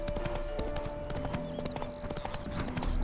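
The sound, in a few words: horse hooves and whinny in video game The Witcher 3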